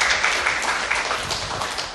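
An audience at a Korean book-talk event applauds a singer, a dense, even wash of many hands clapping throughout, moderately loud and with no talk over it.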